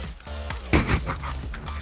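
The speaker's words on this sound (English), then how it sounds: "please don't tell me that's a rock dog" A rock dog pet in a video game lets out a short, close dog-like yelp or whimper that rises sharply and fades within a second, over a steady low game background hum.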